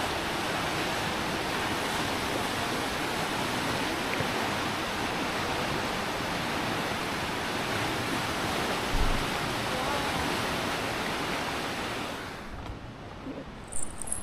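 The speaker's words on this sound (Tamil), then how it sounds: "அந்த தண்ணி ஓடுற சத்தத்தையும் ரசித்து" Running water of a stream in Chamonix pours in a loud, steady roar close to the microphone, continuous for most of the stretch before dropping away near the end, with no talking.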